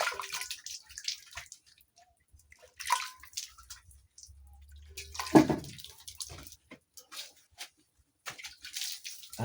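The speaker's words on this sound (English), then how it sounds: "Cleanliness is next to godliness, so you first wash your hands well." Water splashes and drips as hands are washed in a village setting, with intermittent sloshing bursts and quiet gaps between.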